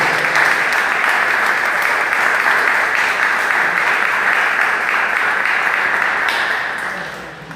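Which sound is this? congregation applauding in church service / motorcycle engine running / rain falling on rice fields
congregation applauding in church service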